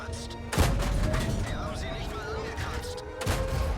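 Loud gunfire bursts in a video game, with sharp reports near the start and again toward the end over a constant rumbling game background.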